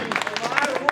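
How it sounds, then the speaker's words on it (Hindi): An audience at a Hindi poetry recital claps for about a second, with a dense patter of many hands close by. "इनके सम्मान में एक बार जोरदार ताली बजा दो"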